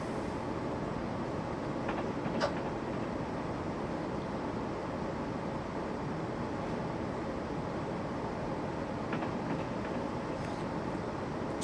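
Class 17 locomotive hauling an Eastern Express service between Edinburgh and Glasgow in Train Simulator 2015, a steady, continuous rumble of wheels on rails with faint rail clicks, alone and unbroken throughout.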